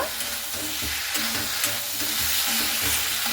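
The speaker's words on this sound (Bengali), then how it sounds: "ভিন্ডি ভাজাটাকে দিয়ে খুব ভালো মতো করে এখানে আমি আবারও নাড়াচাড়া করে নেব" Fried okra stirred in a pan, with a steady sizzle of frying under repeated scraping strokes of a spatula through the pieces, close and continuous.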